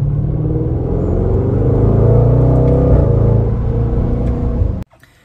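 A 2020 Range Rover Velar SVAutobiography Dynamic Edition engine revs loud and close, a deep sustained roar that holds steady for nearly five seconds before cutting off abruptly.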